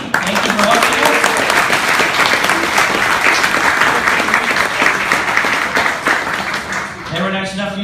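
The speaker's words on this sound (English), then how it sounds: "A quick round of applause for Indeed." An audience at a Python meetup hosted at Indeed.com applauds the sponsor, a loud, dense burst of clapping that holds steady before thinning out, with a voice speaking toward the end.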